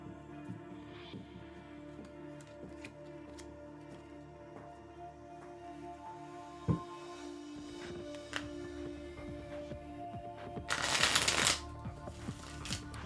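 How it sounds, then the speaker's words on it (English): Tarot cards are shuffled close up in a quiet room, with soft riffling and papery slides punctuated by a few sharper taps and a louder burst of riffling near the end. "I'm shuffling."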